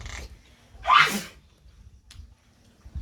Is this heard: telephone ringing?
no